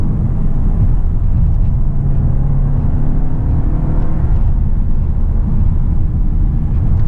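Interior of a 2019 VW Arteon R-Line on the road: a steady low rumble of engine and road noise fills the cabin, unbroken and fairly loud, with no talk.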